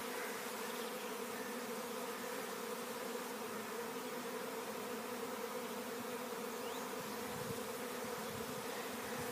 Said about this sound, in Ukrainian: Ось тільки бджоли.